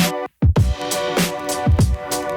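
Bright, squeaky rubber-toy pickaxe impacts in Fortnite repeat in quick pairs over steady game music, each hit a short springy squeal followed by a low thump.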